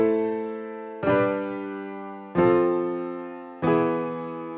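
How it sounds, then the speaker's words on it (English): A simple grand piano preset in BandLab plays three sustained chords, each struck cleanly and left ringing as it slowly fades, for a 2000s-style pop-R&B song. The chords are evenly spaced and moderately quiet, with no talking. "So for my piano, I have used a simple grand piano, which was inside BandLab."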